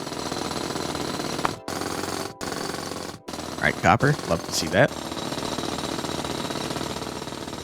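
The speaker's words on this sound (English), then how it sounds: "our drill sucks ass. I hate it. The slowest piece of garbage I've ever seen." A slow mining drill in the game Chipmatic rattles in a loud, continuous jackhammer-like stream, briefly cut out a few times, while someone talks over it.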